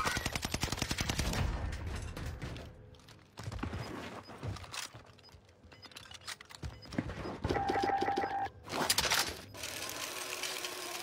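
Video game battle gunfire rattles in quick bursts and single shots, fairly quiet and distant, with sharp repeated cracks separated by short pauses.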